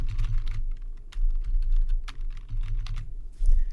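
Brisk, close keystrokes on a computer keyboard as a name is typed, bursts of crisp clicks separated by short pauses, with no talking.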